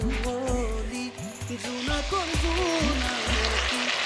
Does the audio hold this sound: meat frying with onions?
yes